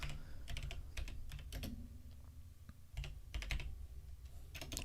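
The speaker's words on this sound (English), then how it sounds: "I keep forgetting where I need to type." Typing on a computer keyboard, heard as irregular bursts of close, crisp keystrokes with brief pauses between runs and no talking.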